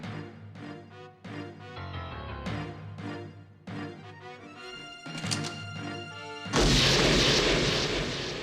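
A single gunshot fired in zero gravity in the PS1 game Policenauts lands as one loud, harsh, sustained blast near the end, after a stretch of rhythmic dramatic music hits.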